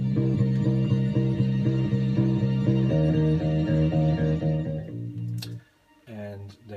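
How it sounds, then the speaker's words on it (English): Bass line played with a distortion effect, a steady repeating pulse of gritty, buzzy notes that changes pitch partway through, then drops out before a brief spoken voice. "the second time I used some distortion,"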